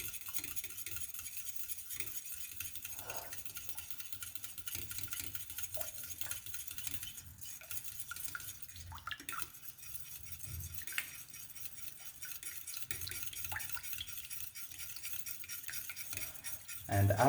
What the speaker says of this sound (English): We're just gonna make sure we mix that quite well.